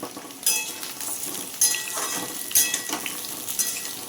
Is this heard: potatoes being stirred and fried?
yes